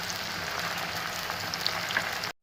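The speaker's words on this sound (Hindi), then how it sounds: "इस प्याज को लाइट ब्राउन करना।" Onions frying in a pan until light brown, a steady, close crackling sizzle with fine popping that runs without pause, then cuts off abruptly at the end.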